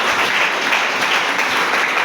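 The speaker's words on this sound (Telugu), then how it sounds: "చప్పట్లు కొట్టండి గట్టిగా" A church congregation claps loudly together, a dense continuous burst of applause filling the space, with no gaps.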